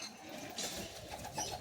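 Pigeons kept for long flights, closed-tail birds, giving soft low cooing amid faint rustling, quiet and close, with no speech.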